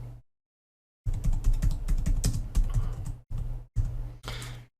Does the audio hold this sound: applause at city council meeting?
no